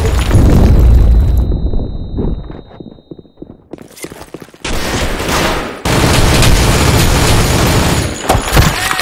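A video game grenade goes off in a loud burst of explosions and gunfire that drops to sparse clicks, then surges back into sustained blasts and rumbling battle noise.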